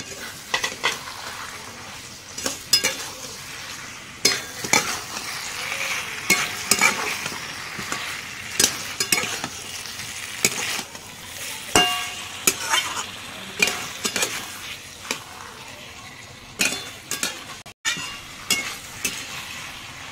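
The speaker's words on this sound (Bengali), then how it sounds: "মাংসগুলো ভালো করে কষিয়ে নিয়েছি" Meat sautéed and stirred in a pan for a home-cooked chicken curry: steady sizzling frying with repeated scraping spoon strokes against the pan, close and continuous, no voices.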